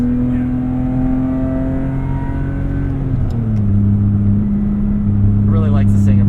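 A BMW E46 M3 track car's engine drones loud and close in the cabin, its tone holding high then dropping as revs shift, with road noise and someone talking over it.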